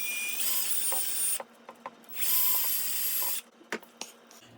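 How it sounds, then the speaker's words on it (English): A Dremel rotary tool enlarges a hole for a Maglite LED bulb upgrade, whining at high pitch in two bursts of about a second each, with small clicks and handling knocks between them. "I'm gonna use a Dremel"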